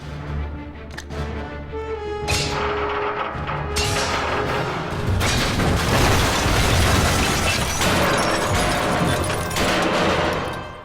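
Dense gunfire and shattering glass in the Quantum of Solace video game, set in a science center interior: loud, continuous fusillade with bursts of breaking debris and booms, no voices.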